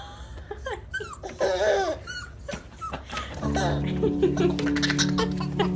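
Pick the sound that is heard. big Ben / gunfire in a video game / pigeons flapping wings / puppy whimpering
puppy whimpering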